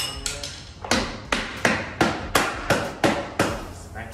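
A Harley-Davidson Road Glide fork leg is struck into place with about nine sharp, evenly spaced hammer blows, each a crisp close knock with a short ringing decay.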